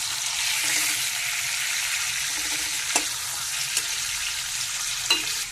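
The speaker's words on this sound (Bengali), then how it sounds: "গ্যাস ধরে রেখেই ভেজে নেবো" Hilsa fish pieces fry in hot oil in a pan, giving a loud, continuous bright sizzle with occasional sharp pops and crackles rising above the steady hiss.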